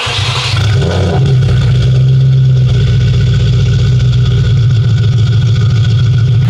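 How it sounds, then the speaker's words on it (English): Car fitted with a VF supercharger kit idles loudly and steadily up close, a deep rumbling drone with a faint whine above it after a brief startup flare at the beginning. "I'm gonna go ahead and do one last startup with this car, with this kit"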